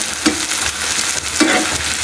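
Garlic-ginger paste frying with onions in a pan, a steady sizzle with two brief louder stirring bursts, no talking.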